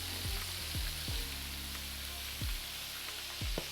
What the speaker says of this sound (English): Now we're not going to let these fry for too long.